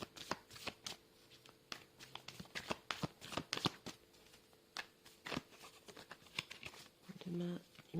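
A mirror oracle card deck is shuffled by hand up close in rapid, irregular riffles and flicks, with a brief voice near the end.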